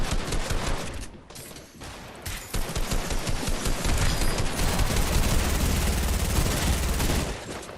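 Rapid SMG fire in Fortnite, with dense bursts of shots running almost without pause after a brief lull near the start, loud and close.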